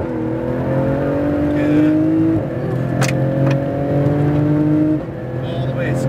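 A sports car engine accelerates at full power on the EXR Las Vegas track, a steady, strong droning roar with a slight pitch shift, and someone speaks briefly over it.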